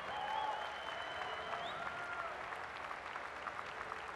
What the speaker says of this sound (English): let's give a round of applause for all these unbelievable legends on stage